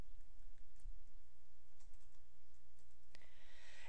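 A computer keyboard is typed on in a quiet room, with soft scattered keystrokes and then a brief burst of faster clicking near the end.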